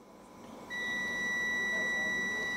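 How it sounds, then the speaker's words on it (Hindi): A digital multimeter's continuity buzzer sounds a steady, shrill electronic tone that starts abruptly and holds unbroken to the end, fairly loud over a faint background hiss. "तो देखिए बजर बज रहा है"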